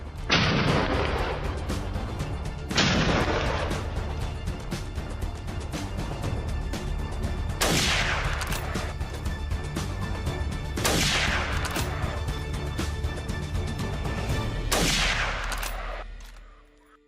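Rangers firing guns at a Komodo dragon on arid Rinca terrain, five loud, widely spaced booming shots, each with a long rolling echo fading into the background rumble.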